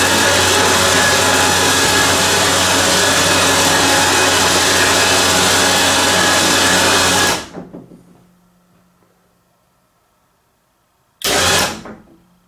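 An electric motor raises the bed platform in a cargo trailer conversion, whirring loudly and steadily for several seconds before cutting off. After a quiet stretch it gives one short second burst.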